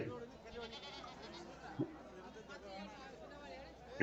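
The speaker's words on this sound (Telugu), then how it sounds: "మేకలు ఉన్నాయి చూడండి ఇక్కడ" Goats bleat amid the chatter and crowd noise of a weekly Saturday livestock market, with a few short calls rising over steady background voices, moderately close.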